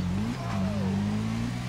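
Motorcycle engine accelerating in GTA V, a steady mid-pitched drone with a rising whine, continuous and close for under two seconds with no talk.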